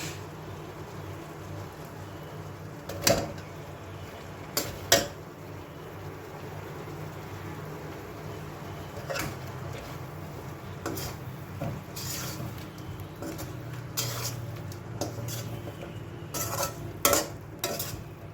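A pan of raw banana masala fry being stirred, with scattered scraping clatters of a spoon against the pan over a soft steady sizzle, no talking.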